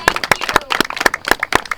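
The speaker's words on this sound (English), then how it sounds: "So how about a round of applause for our volunteers this weekend?" A small outdoor crowd claps for the volunteers at a Gettysburg living history event, a brief burst of distinct, close hand claps in an uneven rhythm.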